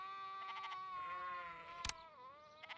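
Alpacas in the farming video game Farm Manager World call out with wavering, sheep-like bleats, several overlapping cries held steadily over a soft background bed, with a brief sharp click partway through.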